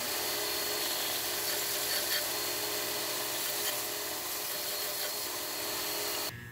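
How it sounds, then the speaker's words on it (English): Steady abrasive sanding of small plastic nubs from model kit parts for a Millennium Falcon build, a continuous close rubbing scrape that runs without pause and cuts off abruptly at the end. "So now I'm just going to take and sand off these little nubs."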